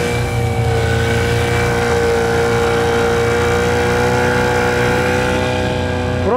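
A Yamaha outboard motor on a small boat among reeds during a duck hunt runs close and steady, a continuous droning engine note throughout.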